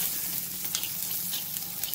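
Onion, garlic and pepper sautéing in a pan for a Chettinad fish gravy, a soft steady sizzle close by with a few faint crackles and stirring sounds, no voices.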